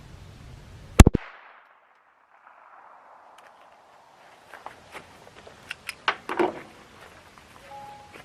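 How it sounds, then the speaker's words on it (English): A single sharp gunshot from a .22 Long Rifle firing CCI standard velocity ammunition, loud and close, followed by quiet and then faint scattered ticks and rustles. "the first one's going to be a 22 long rifle, just standard velocity CCI"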